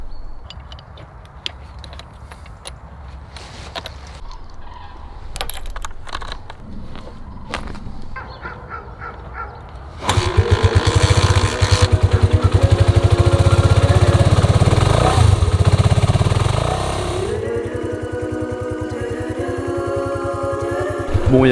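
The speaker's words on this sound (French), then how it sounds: "au moment où j'allume la moto" A motorcycle engine catches and settles into a loud, steady idle after a stretch of quieter clattering and handling noises, rumbling continuously up close at a campsite at sunrise.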